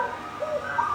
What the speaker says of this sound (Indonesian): Perkutut ngorok ndelosor gacor dor tak kowor-kowor